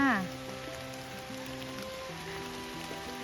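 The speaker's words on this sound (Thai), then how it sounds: "เบิ่งฝนตก" Rain falls steadily on a forest during mushroom foraging, a soft continuous patter heard beneath a sustained tonal hum, with a brief louder sound at the very start.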